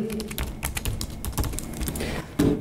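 Rapid clicking keystrokes on a computer keyboard while logging into a password manager, a steady close run of taps with a few louder strikes near the end, no voices.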